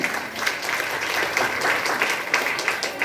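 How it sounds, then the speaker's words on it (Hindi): A crowd at a morning public gathering claps loudly and steadily for a few seconds, a thick, even wash of applause with no break. "मस्त लिए जोरदार तालियां होनी चाहिए"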